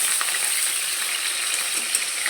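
Pieces of rohu fish hiss and sizzle in hot oil as they are turned over, with a few light metallic clinks from the utensil.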